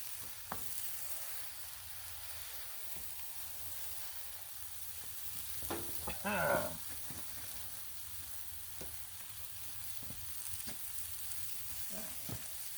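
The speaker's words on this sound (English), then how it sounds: "Throw down some buns, get some bun action going here with the ghee." Burger buns toasting in homemade ghee on a Blackstone flat-top griddle give a faint, steady sizzle, with a brief louder scrape or shuffle partway through and soft clicks scattered around it.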